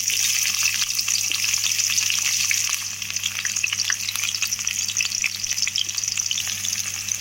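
Onions frying in hot oil for a drumstick, brinjal and potato curry give off a steady, dense sizzle that carries on unbroken with no talk, slightly easing partway through.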